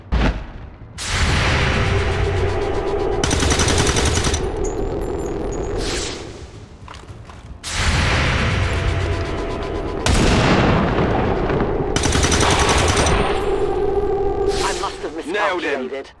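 Heavy booming weapon shots in the strategy video game XCOM 2 War of the Chosen, three loud blasts with long echoing tails that fill the clip, while voices talk over them.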